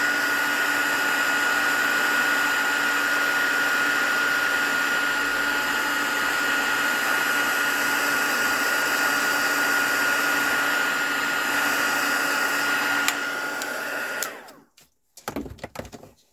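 Heat embossing tool blowing hot air to melt embossing powder, a loud, steady close-up whirring blow with a high whine, running continuously before cutting off, followed by a few brief handling knocks.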